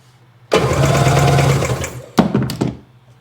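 A hard-starting Seadoo RFI 787 engine cranks over loudly and close for about a second and a half, then gives a couple of short, choppy bursts of cranking.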